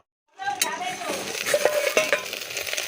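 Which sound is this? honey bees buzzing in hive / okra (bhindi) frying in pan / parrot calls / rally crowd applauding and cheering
okra (bhindi) frying in pan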